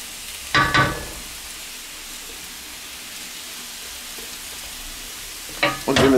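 Mushrooms sear in a hot pan with a steady, hissing sizzle, and brief louder scraping bursts near the start and again at the end as they are stirred.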